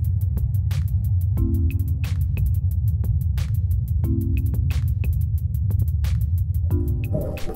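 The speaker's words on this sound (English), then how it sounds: "this is a recording of the Ingenuity helicopter in flight." The Ingenuity helicopter flying on Mars makes a steady, low droning hum of spinning rotors that persists throughout. Repeated faint mechanical ticks and brief tonal blips from the rover sit over it.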